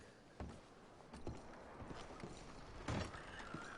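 Horse hooves clip-clop on the ground in the Red Dead Redemption video game, a few irregular, moderately close thuds over a quiet background.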